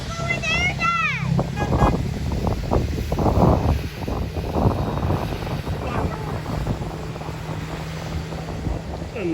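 A United 737 MAX 9 airliner's jet engines spool up at Kahului Airport on Maui, a broad, steady roar mixed with gusty wind buffeting the microphone, while people talk nearby throughout.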